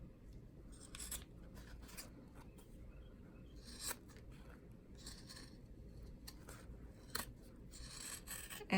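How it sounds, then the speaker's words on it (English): Scissors snip in short, irregular bursts through fabric edges beside a zipper while a zippered credit card bag is trimmed, quiet and close with a faint background hiss between cuts. "So we're just going to cut right along that edge"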